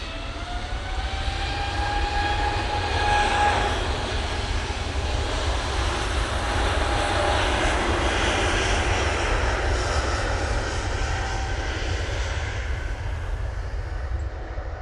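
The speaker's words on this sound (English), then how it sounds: "Lufthansa A320 Neo, now they're all going off to Munich" A Lufthansa Airbus A320neo jet passes at Manchester Airport, its engines a steady, loud roar with rising and falling whining tones layered over a deep rumble, continuous for the whole stretch with no voices.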